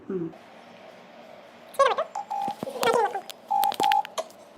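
Several short electronic tones and beeps in quick succession, like phone keypad dialing, with steady hum and brief voices in the background.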